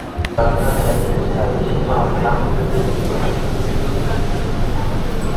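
Seoul subway train ride toward Gangnam, a steady loud rumble of the moving carriage with rattling and a brief high chime at the start, constant throughout.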